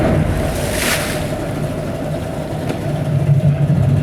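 A 2003 Suzuki 150HP two-stroke outboard motor idling in neutral on a boat, a steady low engine hum and droning tone held throughout, mixed with wind noise and water sounds, with no talk.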